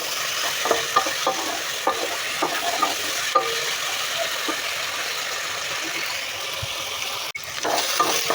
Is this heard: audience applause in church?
no